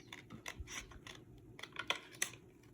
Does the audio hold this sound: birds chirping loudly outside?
no